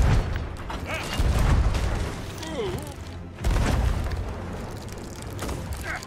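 Cannon fire aboard a pirate ship in the Sea of Thieves video game: two heavy, booming blasts roughly two seconds apart, each followed by rumbling noise, with a player talking over the action.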